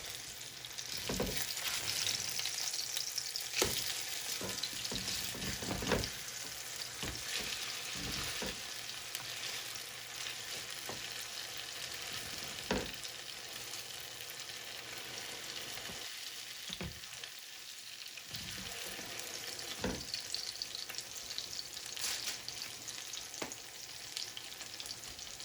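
Hot water cornbread patties fry in a pan of oil with a continuous, dense sizzle and crackle, broken by occasional utensil knocks and scrapes. No voices are heard.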